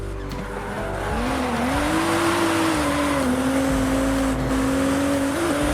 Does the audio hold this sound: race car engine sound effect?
yes